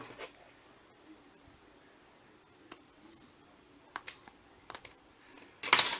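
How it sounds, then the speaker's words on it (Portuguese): Scissors snip through fabric at a zipper in a handful of sharp, separate clicks spread over a quiet background, ending in a louder burst of cutting noise; no talking. "eu já posso vir aqui e cortar, acertando aqui a parte do meu zíper"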